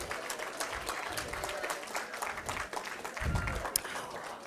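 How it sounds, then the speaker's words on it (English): Sustained applause from a school crowd at a reading competition, greeting the third-place winner: dense, steady clapping and some cheering fills the room throughout, with a compere's amplified voice faintly over it. "So put your hands together for our third place today, Rejan Joseph from District 1."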